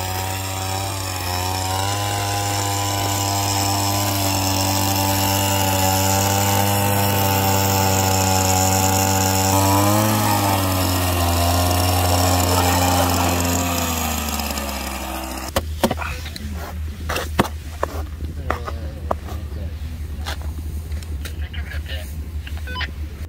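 A motorized ice drill bores through a frozen lake in Hokkaido, whining loudly and steadily for a long stretch, its pitch shifting under load, then stops, leaving scattered knocks and clatter.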